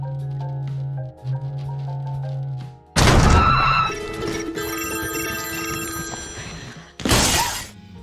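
A ringing mobile phone alarm, one of many handsets strapped to a belt, sounds out loud and harmonic with crashing bursts, after a quieter steady tone.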